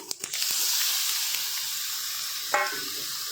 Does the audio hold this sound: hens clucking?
no